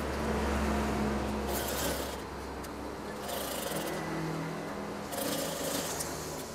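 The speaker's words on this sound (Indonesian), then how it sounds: "Kemudian dijahit saja." Sewing machine stitching fabric for a curtain craft, a continuous close mechanical whirr that rises in a few short, brighter bursts, with no talk.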